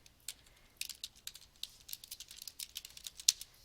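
Someone types on a computer keyboard in MS Word, a close, quiet, irregular patter of key clicks with brief pauses, no talk.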